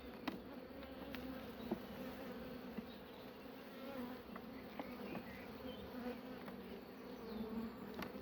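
A honeybee swarm drones steadily at a hive, a continuous close buzz with individual bees occasionally zipping past, heard alone and fairly quiet.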